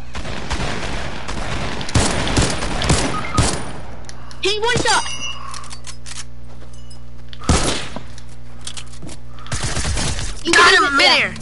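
Video game gunfire cracks in several sharp bursts, loud and close, separated by quieter gaps with people talking over the action.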